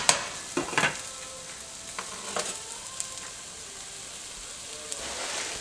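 Chicken pieces being stirred and moved around in a wok fitted with a pan steamer insert, with a steady soft sizzle and several scraping, clattering pushes spread through the stretch, fairly close and without talk.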